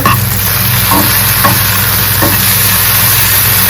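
Okra fries in hot oil in a pan, giving a loud, steady close-up sizzle with a few faint scraping stirs breaking through, and no talking.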